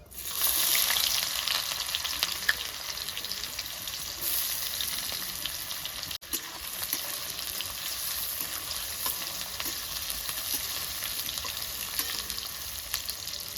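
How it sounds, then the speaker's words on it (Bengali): Chopped onion fries with whole cumin seeds in hot oil, giving a loud, continuous close-up sizzle that holds steady throughout with only a brief dip midway and no talking. "এই যে আমার পেঁয়াজটা ভাজা হয়ে গেছে"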